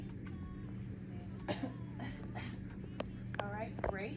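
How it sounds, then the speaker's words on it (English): A patient coughs into a cloth during a nursing assessment, with several short, close coughs and throat sounds over a steady low hum, while a voice speaks softly nearby. "can you cough into this cloth for me?"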